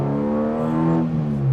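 A Rover 100 small car engine revs steadily and loud, its rising tonal whine sustained close by with no voices.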